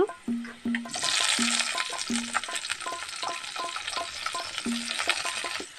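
Tomato goes into a pan of fried onions for aloo dum and starts sizzling loudly at once. Repeated spoon scrapes and knocks on the pan keep a steady rhythm over the continuous hiss.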